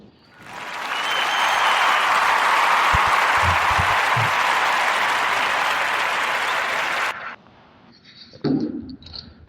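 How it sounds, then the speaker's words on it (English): A podcast audience gives a warm round of applause for a guest, a dense, steady wash of clapping that builds quickly, holds loud for about seven seconds, then cuts off into quieter room noise and brief movement. "So we're going to give a warm round of applause for the sister, Gabrielle Union."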